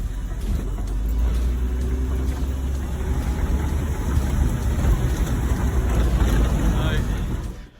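A BMW wearing a 1955 Ford body drives along on a test drive, its engine and road noise forming a loud, steady rumble with wind buffeting, fading out at the very end.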